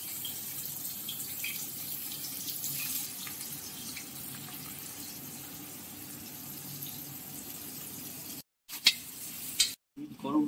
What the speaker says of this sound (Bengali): এখানে তৈরি করে নিচ্ছি আমরা পেঁয়াজের বেরেস্তা সবার আগে ফ্রাইড রাইস দেওয়ার জন্য।